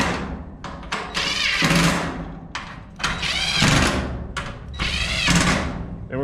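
A power drill driving screws into a garage door roller bracket, several loud close bursts of whirring motor that rise in pitch and stop, separated by brief pauses and clunks.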